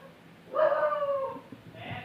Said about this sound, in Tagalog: Yung aso, natakot sila sa aso.